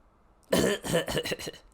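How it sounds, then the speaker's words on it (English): A few quick coughs in a short burst, close and fairly soft, with no talking. "Cough, cough, cough."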